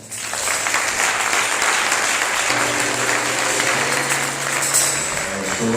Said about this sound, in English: let's give a round of applause for Brother Ron Dalton